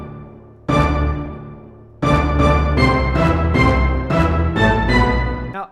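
Layered orchestra hits from the BBC Symphony Orchestra plugin in Ableton, one loud punchy stab followed by a rapid series of repeated stabs, each with a bright attack and short ringing decay.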